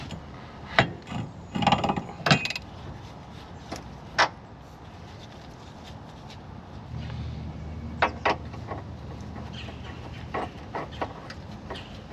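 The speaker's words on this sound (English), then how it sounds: "now we should be able to grab our tie rod tool and get that inner tie rod out of there" Inner tie rod being worked loose with a tie rod tool on a cheap car in a garage: scattered scraping, grinding and metallic knocks, busier early on, then a lower continuous rubbing grind with occasional clanks.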